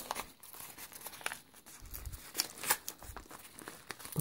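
A double plastic package is unwrapped close up, with quiet, irregular crinkling and a few sharper crackles and rustles, no talking.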